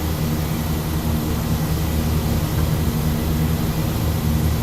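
Twin piston engines of a Tecnam P2006T at takeoff power in the X-Plane 12 simulator, a steady, loud, low engine drone with a propeller hum, continuous and unbroken.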